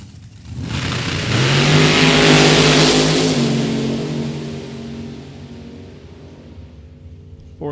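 A Camaro drag racing in the left-hand lane at Mid Michigan Motorplex launches with a loud engine roar. The note rises through a gear change, peaks, then fades as the car pulls away down the strip.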